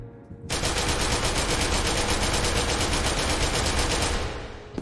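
Sustained automatic fire from an E11 rifle with a 55-round drum in SCP: Secret Laboratory, one unbroken loud burst of rapid shots lasting about four seconds before cutting off.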